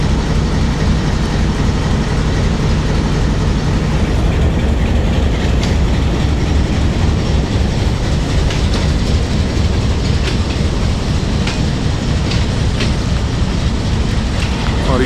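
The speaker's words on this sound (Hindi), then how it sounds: "बम्बार्डियर यूनिवर्सल 2000 हार्स पावर का लोकोमोटिव है" Pakistan Railway passenger train hauled by a Bombardier Universal 2000 horsepower diesel locomotive, running in rain: a loud, steady broadband rumble and roar with faint wheel clatter throughout.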